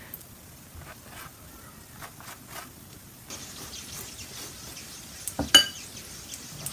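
A stuffed paratha filled with shami kabab cooks in ghee on a pan, giving a soft, steady sizzle that grows fuller partway through, with a few light utensil taps and no voices.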